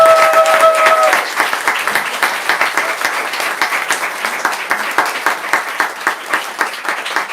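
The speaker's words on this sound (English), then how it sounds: "Now please join me in giving Tomi and Alex one last round of applause" An audience at a book talk applauds Tomi Obaro and E. Alex Jung. Loud, dense clapping at first gradually thins into a looser patter of individual claps.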